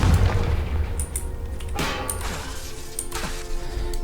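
A Confringo blasting spell going off in the video game Hogwarts Legacy, heard as a deep booming explosion with crashing impacts and rumbling debris, loud and close.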